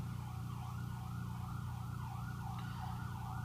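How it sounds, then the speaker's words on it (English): Emergency sirens wail in the background, a faint, distant rising-and-falling tone cycling steadily over a low rumble of traffic. "Oh, I apologize for the sirens in the background."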